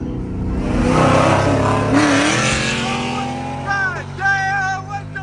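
A Dodge Charger Scat Pack accelerates hard in a street race against a Cadillac CTS-V and a 2024 Hummer EV. The engine roars loudly and close, with revs climbing steeply through the gears and brief tire noise.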